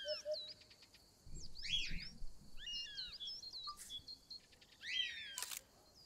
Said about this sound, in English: I see my birds are also reacting.